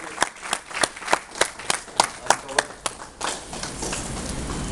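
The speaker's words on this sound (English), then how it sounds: "give him a round of applause and wish him good luck" At a book launch, an audience claps in sparse, distinct hand claps for about three seconds, then the sound fades into a softer, even room wash.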